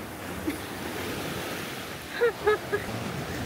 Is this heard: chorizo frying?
no